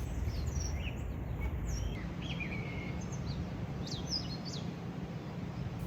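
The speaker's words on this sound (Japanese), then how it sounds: "温泉街と鳥のさえずり、のどかな朝です" Birds chirp and tweet on a quiet morning in the Arima Onsen hot spring town, with several short, thin calls scattered over a soft, steady outdoor hush.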